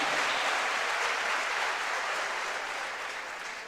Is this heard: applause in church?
yes